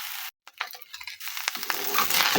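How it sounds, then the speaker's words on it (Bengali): Leftover rice frying in a pan is stirred, giving a soft sizzle with scraping spoon strokes and brief clatters, fairly faint and close. "ভালো করে নেড়ে চেড়ে নিয়ে নিতে হবে।"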